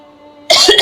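A person coughs once, loud and close, a sudden burst after a near-silent moment.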